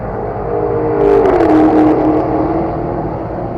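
A Shelby sports car on a race track revs up and rises in pitch as it accelerates hard, swelling in loudness and then settling into a steady drone as it moves off.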